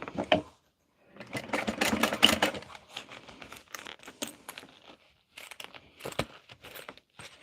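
A sewing machine stitches across the front zipper pocket of a sewing project in bursts of steady whirring, with short pauses between runs, close and fairly quiet.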